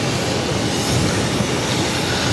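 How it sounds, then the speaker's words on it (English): United Airlines Boeing 737 MAX 9 jet taking off from runway 22 right at Boston Logan, a loud steady broadband engine roar filling the air without pause. "This is United Airlines 2400 taking off to San Francisco on a MAX 9."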